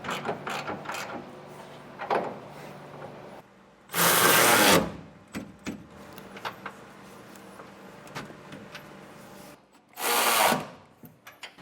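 A 1 1/8 inch socket drives 3/4 inch bolts on a B&W Companion 5th wheel hitch with turnover ball in a 2015 Ford F-series truck bed, with two loud whirring bursts of a powered driver separated by scattered metallic clinks and handling noises.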